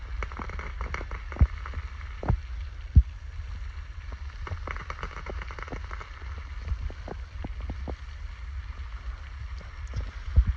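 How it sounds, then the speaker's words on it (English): Air sputtering and popping out of a farm irrigation nozzle on a long 4-inch line, irregular sharp pops and gurgling spurts over a low steady rumble. "You can really hear the air pop out of this nozzle."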